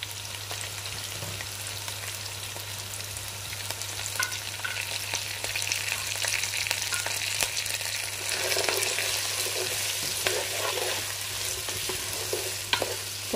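Chopped onions, green chillies and curry leaves fry in hot oil with fennel and mustard seeds for a Jaffna-style mutton curry, giving a steady close sizzle with stirring scrapes and small crackles, no voices.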